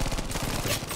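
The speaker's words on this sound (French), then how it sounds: "Encore un fusil à pompe, mais ce n'est pas le même." Rapid gunfire in the video game Battlefield V, a fast series of sharp, loud shots close by, repeating in quick succession with no voices over it.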